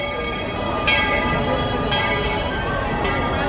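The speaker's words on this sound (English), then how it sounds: "There goes the train." A train rolls past at Magic Kingdom on New Year's Eve with a loud, steady rumble and bell-like clanging tones, over a busy outdoor crowd background.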